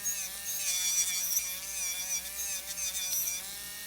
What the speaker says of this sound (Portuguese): Você vai com a broca de um lado ao outro